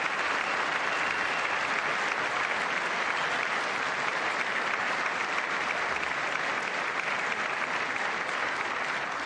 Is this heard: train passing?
no